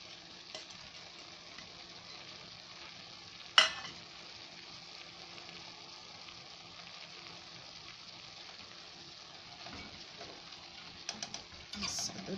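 Minced meat with peppers, onion and garlic is stirred in a frying pan, giving a soft, steady sizzle with light scraping, one sharp clank of the utensil, and a voice talking at times.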